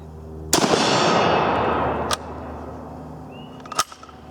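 Mauser rifle shots fired at a steel target: a loud, sharp report at close range with a long decaying ring, followed by two more separate cracks spaced over a few seconds.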